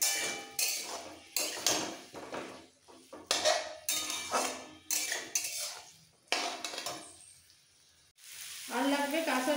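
Spices and tangra fish are sautéed in a pan. Loud, sharp scraping and clanking strokes of a utensil against the pan repeat roughly every half second over a hissing sizzle, then pause before a burst of frying noise at the end.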